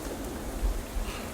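Steady rain hiss across the band in the video game Shadows Over Loathing, a continuous wash of falling drops with a couple of low thumps, no talking over it.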